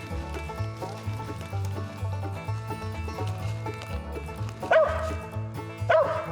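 A hunting dog barks during a squirrel hunt, with a few sharp barks rising near the end over a busy background of low tonal music or hum.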